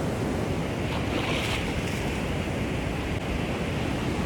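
Ocean waves wash steadily onto a beach strewn with storm-felled trees, a continuous loud roar of surf with wind buffeting the microphone throughout.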